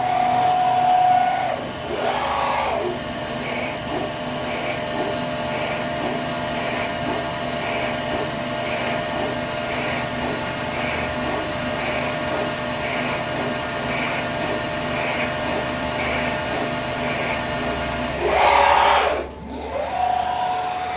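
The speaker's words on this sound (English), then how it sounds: "Cut the thread now." A CNC lathe cutting a thread: a continuous machine whine and hum with steady tonal lines and a faint regular pulsing, constant for most of the run, with a brief louder burst near the end.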